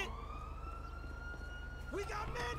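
A police car siren in the GTA 5 video game wails faintly in the background while a voice talks over it, with a brief rising whoop near the end.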